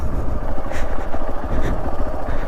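A scooter engine braking while ridden downhill off-road, a close, loud, rough engine drone with fluttering pulses and wind rumble, steady throughout without talk.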